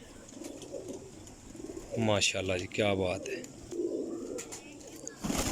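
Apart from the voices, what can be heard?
Golden Mian Sahib pigeons cooing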